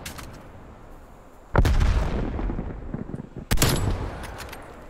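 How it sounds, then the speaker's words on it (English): A grenade goes off in Call of Duty Black Ops Cold War, two loud booming blasts about two seconds apart, each with a long rumbling decay, over a steady background of game ambience. "Sort of a test grenade to see."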